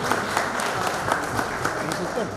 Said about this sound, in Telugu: దయచేసి అందరూ ఒకసారి చప్పట్లు కొట్టండి.